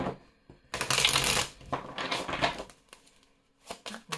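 Oracle cards being shuffled by hand, a loud riffling burst followed by shorter rustling shuffles and soft card slaps, close up with no talk.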